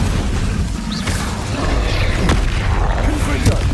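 An Incendio fire spell cast in Hogwarts Legacy, a dense roaring, crackling burst of flame with low rumbling booms and sharp pops, loud and continuous throughout under game effects.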